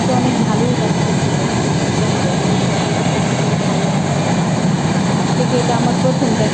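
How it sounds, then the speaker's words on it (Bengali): A new train passes along a new rail line. It makes a loud, continuous rumbling roar that stays steady from start to finish. "ট্রেন যাচ্ছে নতুন, কত নতুন ট্রেন"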